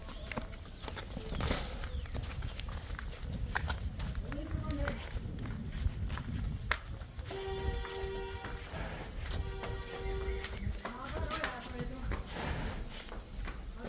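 Heavy hooves of a buffalo clop at a walking pace on hard ground on a farm while people talk nearby.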